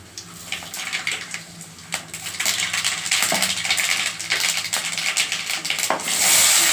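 Dried red chillies fry in a pan for a home-style keerai kuzhambu, with a crackling sizzle that builds from soft to loud, broken by occasional clinks and scrapes of stirring.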